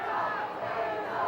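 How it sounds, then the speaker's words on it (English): A wrestling arena crowd hollers and roars together in a sustained, dense wall of shouting voices, loud and continuous throughout. "You hear the crowd getting into it"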